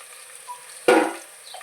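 Onions drop into hot oil in a pan with a sudden sizzle that bursts loudly and then fades over about half a second, after a near-silent start.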